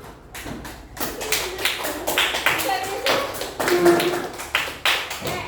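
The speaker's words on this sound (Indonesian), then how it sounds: "Ya, tepuk tangan untuk kelompok 1." Classroom applause for a student group, a burst of many hands clapping unevenly at close range for several seconds, with voices mixed in.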